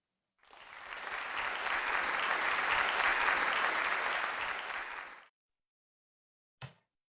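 Audience applause at a young speakers' contest, swelling in quickly, holding steady and full for about five seconds, then cutting off into silence before a brief final sound.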